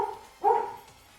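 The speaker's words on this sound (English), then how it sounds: "We got a puppy dog barking, which is lit." A single short, fairly close bark from a puppy dog rings out clearly, then fades into a quiet indoor background.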